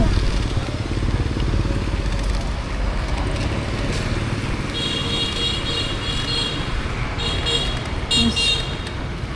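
Steady street traffic rumbles throughout on a main street in Vietnam, with motorbike engines droning past at moderate distance and no one speaking.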